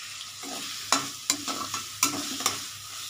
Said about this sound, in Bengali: এবার আমি পেঁয়াজটা ভাজা, রসুনটা ভাজা করছি।